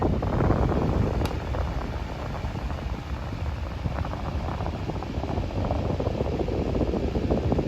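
A 1996 Super 12-inch desk fan fitted with new blades runs on its slowest setting, giving a steady close airy whoosh with a low rumble that stays even throughout, with no talking.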